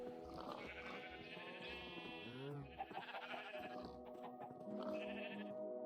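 Sheep bleat in the Minecraft video game, several wavering calls repeating over a steady background of other farm animal sounds, fairly close and clear with no talking.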